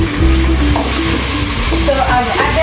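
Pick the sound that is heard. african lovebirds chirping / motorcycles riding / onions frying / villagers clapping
onions frying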